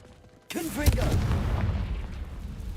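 A Confringo blasting spell erupts in Hogwarts Legacy, a sudden loud boom after a quiet moment, followed by a rumbling roar that slowly fades, with a voice briefly heard over it.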